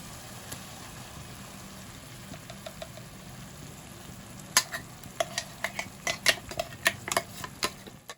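Spinach paste for dhaba-style palak paneer is sautéed in a pan, with a low steady background hum and then a quick run of sharp, close stirring scrapes and clinks.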